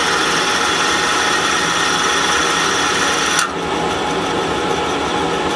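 Bare spindles of a KSI SQC-38 CNC Swiss-type lathe turn at 1,000 RPM, heard from about five inches, producing a steady, loud mechanical whir with a brief click midway and a slightly lower drone afterward.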